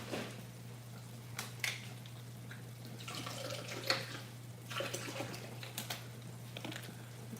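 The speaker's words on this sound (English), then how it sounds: "And I'm gonna add a little bit of water." A little water is poured into a cooking pan of frying rice, heard as soft, uneven splashes and trickles with a few sharper clinks, fairly faint and close.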